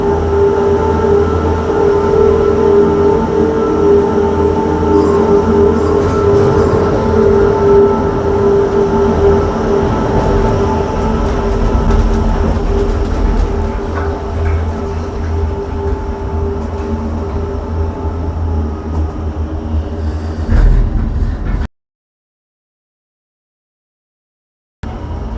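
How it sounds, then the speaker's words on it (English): A Disney Skyliner gondola cabin glides toward Epcot with a steady, loud rumbling hum and rattle close at hand for about twenty seconds, then falls silent before resuming. "You are on the Disney Skyliner at Disney's Caribbean Beach Resort. We're flying to Disney's Riviera Resort with continuing flights to Epcot."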